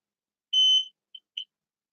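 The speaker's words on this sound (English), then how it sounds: "So you should hear that beep." An electronic detector gives a high beep on carbon fibre, then two short chirps after a pause, clean against silence.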